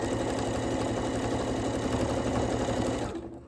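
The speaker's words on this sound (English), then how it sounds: "sew the rest of the way here" A sewing machine runs steadily while stitching a seam on an upcycled garment, a close, loud, fast even whirring clatter that continues without pause for about three seconds, then winds down and stops.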